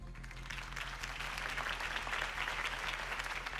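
A video game crowd in Batman: The Telltale Series claps steadily after a campaign speech, dense applause building slightly and holding at an even level throughout, with a low hum beneath.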